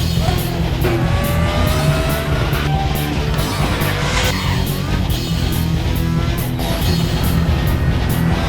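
The FRX-22 Formula 1 car in the RaceRoom racing sim, its engine screaming loud and close with rising and falling revs through gear changes, plus occasional tire squeal.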